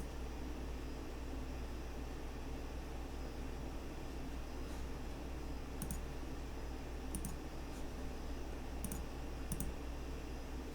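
Computer mouse clicks on a desktop computer while working in SolidWorks 2016, a few sharp, sparse clicks over a steady hum of room noise and air conditioning.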